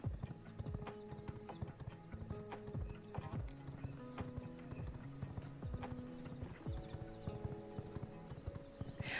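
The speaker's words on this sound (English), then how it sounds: "riding the horse because it was kind of wild and strange at first" Horse hooves clip-clop steadily and close while riding in the vampire survival game V Rising, with an occasional whinny and layered game music throughout.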